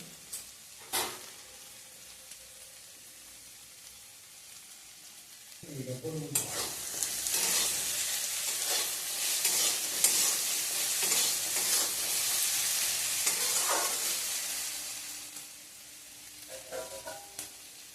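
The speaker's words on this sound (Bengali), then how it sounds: "আলুটা আমার ভাজা হয়ে গেছে।" Potato pieces with turmeric and salt fry in a pan, a steady close sizzle rising after a quiet start and lasting several seconds with light stirring scrapes, fading toward the end.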